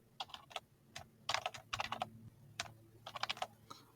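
Fingers tap out short, irregular bursts of keystrokes on a computer keyboard, close and fairly quiet, with brief pauses between clusters and no talking.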